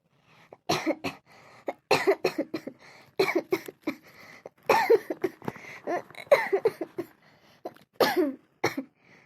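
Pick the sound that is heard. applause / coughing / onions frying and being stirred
coughing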